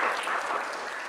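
An audience applauding at a morning class session, a short steady wash of clapping heard throughout.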